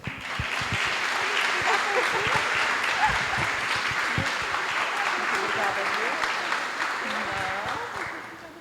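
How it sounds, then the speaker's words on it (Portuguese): Audience applause at a women's gathering on financial health: sustained clapping that swells in and tapers off near the end, with voices and shouts from the crowd mixed through it. "Palmas para a Gisele."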